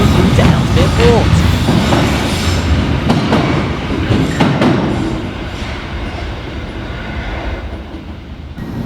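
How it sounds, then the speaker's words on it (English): Merseyrail electric unit 77723 on the 12:39 Liverpool Central to Ellesmere Port service at Green Lane station, a steady loud rumble of the train moving close by, with faint squeals and clatter that ease off toward the end. "we have 77723 working the 1239 Merseyrail electric service Liverpool Central through to Ellesmere Port"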